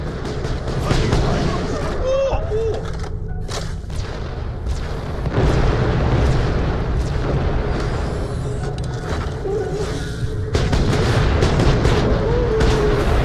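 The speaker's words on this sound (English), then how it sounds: "Almost zero juice running through this place, and the old turrets still work." Old automated turrets in a sci-fi video game fire in dense, continuous loud bursts, heavy booming gunfire layered under game effects throughout.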